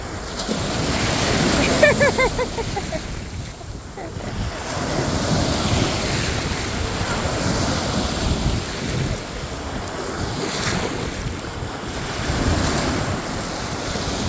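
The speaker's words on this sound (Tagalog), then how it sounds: "Lakas ng alon!" Strong surf at a beach in Iba, Zambales, Philippines: heavy waves roll and crash in a continuous roar with gusty wind buffeting the microphone, and voices are faintly audible beneath.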